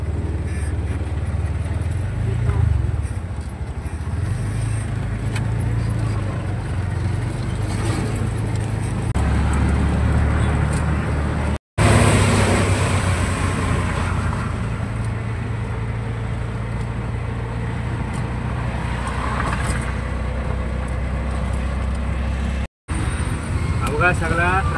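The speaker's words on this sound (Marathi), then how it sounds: "बघा सगळा ट्रॅफिक फुल झालेला आहे गोवा हायवे रोडला" Heavy road traffic on the Goa highway in the Konkan, with a continuous rumble of cars and motorcycles passing close by and a steady engine drone, while people talk over it.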